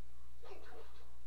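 A dog whimpering in the video game Pikmin 4, a short soft burst of whines over a steady low background hum.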